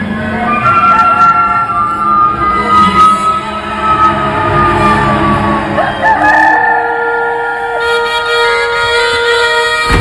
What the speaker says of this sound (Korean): 이 베드로가 또 부인하니 곧 닭이 울더라.